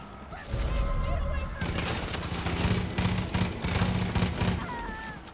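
Enemy gunfire in the video game Far Cry 5, a sustained rapid burst of shots that kicks in abruptly and keeps rattling at close range, with a few pauses and mechanical clatter.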